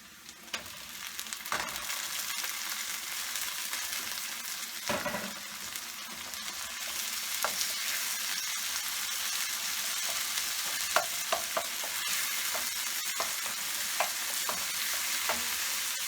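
Steady sizzling of onions, garlic and chopped tomatoes frying in a pan for shrimp curry, with occasional clinks and stirring noises, close and continuous.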